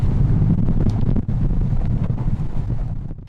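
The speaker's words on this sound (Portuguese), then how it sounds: "Na orla de Santos, por volta das 10h30 da manhã, o cenário era esse, de muito vento." Strong wind buffeting the microphone on the Santos seafront in Brazil during a storm surge, a steady loud low roar that holds for the whole stretch with a brief dip midway, over faint wave and water noise.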